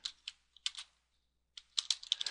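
Bursts of keystrokes on a computer keyboard, quiet and close, arrive in two clusters of rapid clicks separated by a short pause.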